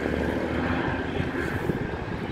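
Virgin Atlantic airliner landing on runway 25 right, a loud, close, continuous roar of jet engines and rushing air holding steady throughout, with no voices.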